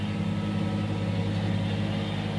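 A steady, low diesel tractor engine drone rumbles continuously and fairly close, with no change in pitch or loudness and no talking.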